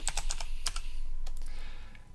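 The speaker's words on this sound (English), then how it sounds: "So what I'll do is I'll just start typing." Rapid, uneven clicking of keys on a computer keyboard while writing Java code, a quick burst of keystrokes followed by a few spaced taps, close and clear with no talking.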